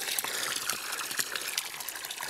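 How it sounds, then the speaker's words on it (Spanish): Clean water flows steadily at a snowy mountain refuge, a close, continuous rushing gush with no voices. "Y aquí tenemos agua, agua,"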